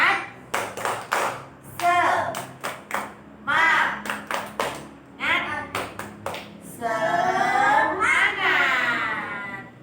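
Children clap together in a quick rhythmic pattern, loud and close, with bursts of young voices shouting in between the claps.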